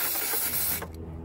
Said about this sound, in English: we're going to take some contact cleaner